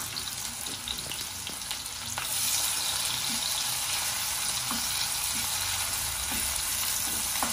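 Chopped onion, one large onion's worth, sizzles steadily in hot oil in a home kitchen pan for a fish kofta curry, with a dense hiss that swells louder after the first couple of seconds and carries on unbroken with faint stirring scrapes.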